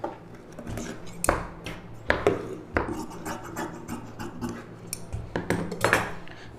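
Scissors cutting blouse fabric along a marked line, a series of close, crisp snips and scrapes at an uneven rhythm, some louder than others, with no talking.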